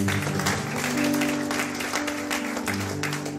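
Church congregation clapping together in praise, a dense continuous wash of applause lasting several seconds, fairly near, with a sustained musical tone underneath.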